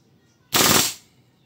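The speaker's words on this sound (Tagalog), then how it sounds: "GBBR version 3. Firing." A WE M4 gas blowback airsoft rifle fires one short full-auto burst, a loud rapid rattle of shots lasting about half a second, set against an otherwise quiet background.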